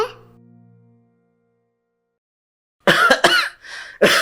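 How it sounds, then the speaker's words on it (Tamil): An elderly man coughs once, a short low rasp that fades, followed by silence and then a quick burst of harsh coughs near the end. "ஏன் தாத்தா இருமுனீங்க?"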